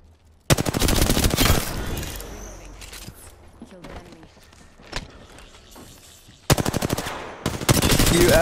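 Apex Legends gunfire erupts in loud, close automatic bursts: one long rapid volley, a stretch of quieter scattered shots and footsteps with voices, then another fierce burst near the end.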